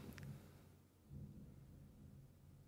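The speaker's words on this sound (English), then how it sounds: "It's thundering and storming right now." Faint low rumbles of thunder roll in a distant storm, two soft swells heard indoors with no talking over them.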